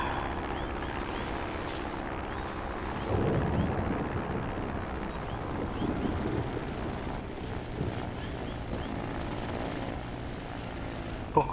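An airplane engine in the video game Trailmakers gives off a steady, loud, broadband roar that drones continuously without a break and swells slightly partway through.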